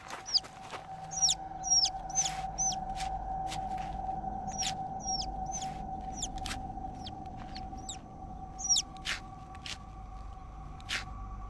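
A live chick peeps in a rapid, irregular series of high, sharp chirps over roughly eleven seconds, fairly close, with a steady low electrical hum and faint room noise underneath.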